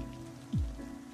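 Soft steady rain falls on a surface in a dramatic scene, a faint continuous patter under a low hum with a brief low swoosh partway through.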